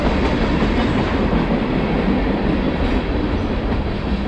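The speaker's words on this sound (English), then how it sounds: "Train coming." A train rolls past close by, a loud continuous rumble with rail clatter that fills the whole stretch at a steady level, with no talk over it.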